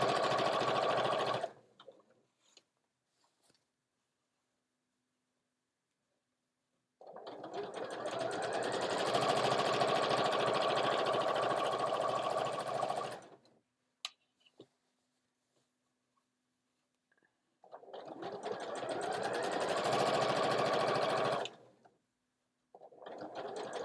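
Sewing machine stitching an ironing board cover in bursts, each run of rapid whirring lasting several seconds, then stopping for quiet pauses before starting again, close and fairly loud.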